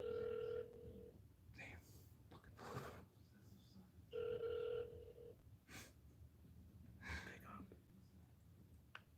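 A telephone rings twice with a long electronic tone while a call to the New Jersey State Police Troop A is being transferred, faint, with breathing and brief sounds between rings.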